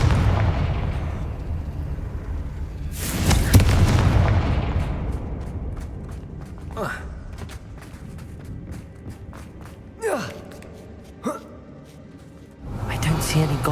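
A Confringo blasting spell in Hogwarts Legacy bursts into a loud, booming explosion with a rumbling tail, followed by lighter crackles, impacts and scattered debris sounds, and a second swell of blasting noise near the end.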